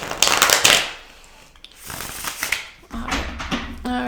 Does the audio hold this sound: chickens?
no